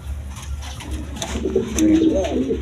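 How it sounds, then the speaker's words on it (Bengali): Panja and Beauty fancy pigeons coo close by in a short, soft, rolling run of throaty calls over a low steady hum. "এখানে আরেকের পাঞ্জা কবুতর আছে দেখেন বিউটি কবুতর"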